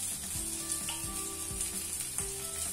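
Oil sizzling steadily on a hot tawa as a khichdi paratha fries, a continuous bright hiss with soft scraping or stirring knocks recurring underneath, no voices.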